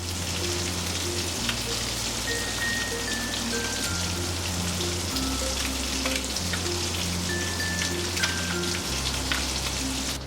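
Fish egg thoran is stir-fried on a high flame, producing a continuous crackling sizzle with a low steady hum from the burner underneath.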